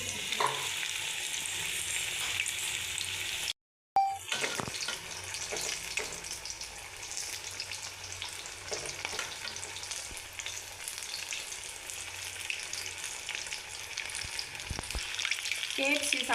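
KFC-style chicken pieces fry in oil over a low flame, giving a steady, close crackling sizzle with occasional stirring clatter and a brief silent gap near the start; no one speaks.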